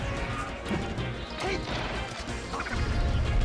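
Up smash attacks connecting in a Super Smash Bros. Melee match between Samus and Fox, heard as sharp smacking hits over steady game noise, with a commentator talking alongside.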